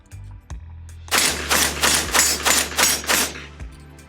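An Orthos Arms Raider S4 shotgun fires buckshot in a rapid string of about eight loud, close booming shots, evenly spaced at roughly one per third of a second, after a few low thumps at the start.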